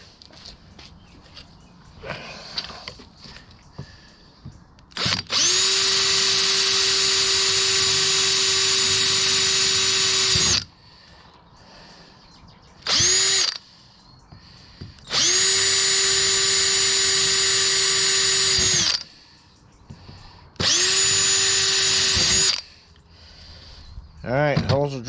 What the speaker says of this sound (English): Alright, holes are drilled.